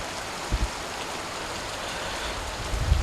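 Rain falls steadily during a spring storm in Brahmanbaria, a dense, even hiss with no speech and a couple of faint low thumps.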